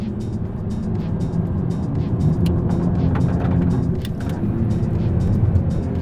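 A Maserati MC20 GT2 Stradale is driven on a race track, its engine roaring loud and steady from inside the car, with the revs rising and falling as the throttle changes and no one talking.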